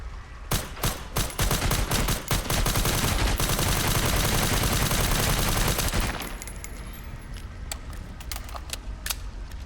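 Rapid video-game gunfire rattles in a dense, loud burst of shots for several seconds, then thins into sparser, scattered shots over lingering in-game ambience.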